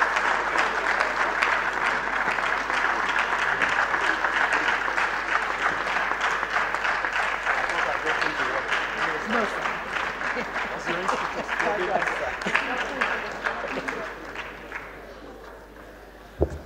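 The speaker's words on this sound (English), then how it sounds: "Please keep clapping until he gets here." A lecture audience at the University of Lagos Institute of Maritime Studies claps together in sustained, dense applause that holds steady for most of its length before thinning out and fading near the end.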